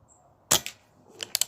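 A Reximex Lyra side-lever air rifle fires one sharp, close crack, followed by a few lighter mechanical clicks and taps.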